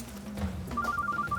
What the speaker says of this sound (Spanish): Beatriz, es mejor que apagues el teléfono